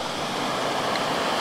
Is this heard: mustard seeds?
no